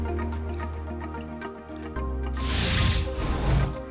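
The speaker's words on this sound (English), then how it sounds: "and rinse them with water" Water runs and splashes as lab electrodes, just dipped in nitric acid, are rinsed; faint dripping comes first, then a louder hissing stream of water near the end.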